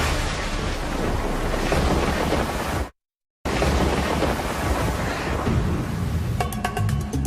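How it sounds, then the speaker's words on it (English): Deep, rolling thunder rumbles loudly with rain and wind, cutting out briefly before the storm roars back. "could this be Earth's most powerful lightning?"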